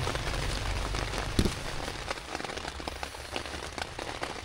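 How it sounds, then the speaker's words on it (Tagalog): Heavy rain pours steadily in a dense, continuous hiss at a campsite during a storm in Lobo, Batangas, drops pattering on surfaces nearby, with no voices. "bumuhos na yung ulan"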